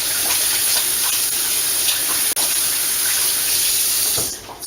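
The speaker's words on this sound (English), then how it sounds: "let's rewash my hands." Running tap water splashing steadily over hands being rewashed at a kitchen sink while baking, a continuous close hiss that fades away at the very end.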